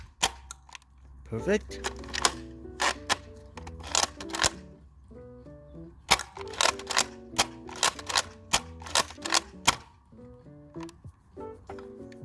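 Nerf Elite 2.0 Flipshot Flip 16 blaster firing foam darts, a string of sharp springy thumps and mechanical clacks in irregular bursts, close by, with a voice speaking briefly between shots.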